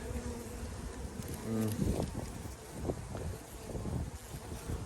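Bees buzz around an open hive of a queenless honey bee colony, a soft continuous hum close by with light wind and handling noise mixed in.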